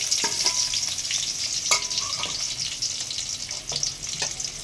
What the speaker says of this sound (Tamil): இப்போ வெங்காயத்தை போட்டு வதக்கிக்கலாம்.